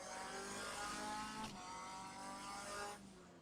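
Race car on track at Cadwell Park in an AMS MCR Championship round, engine droning steadily loud in third gear from onboard, with a brief dip around a shift before the note eases off near the end.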